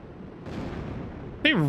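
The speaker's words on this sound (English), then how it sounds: "starts firing cannon shots at lifeboats" Cannon shots in Skies of Arcadia: Legends fired at lifeboats: a rumbling, booming burst rolls in and holds, then a voice cuts in at the end.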